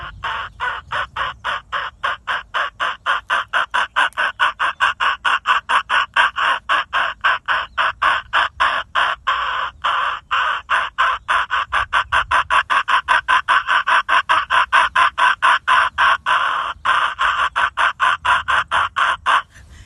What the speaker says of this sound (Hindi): जब ये पूरी तरह से ये मेटिंग करने के तैयार होती है तब ये अपना मेव को रिझाने की आवाज़ निकालती है।